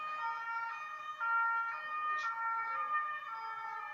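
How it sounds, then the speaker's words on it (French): Ambulance sirens pass by outdoors, their wailing two-tone pitch rising and falling in a repeating cycle. The sound is moderately loud and carries on its own without talk. "Désolé pour les ambulances qui passent là."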